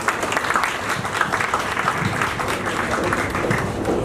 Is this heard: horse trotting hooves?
no